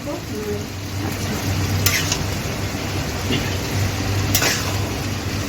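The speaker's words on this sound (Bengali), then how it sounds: "আচ্ছা ভালো করে এখন নাড়ানাড়ি হচ্ছে" Taro greens with ground cumin being stirred in a frying pan, a steady close sizzle with rhythmic scraping of the spatula and a couple of sharp metallic clinks against the pan.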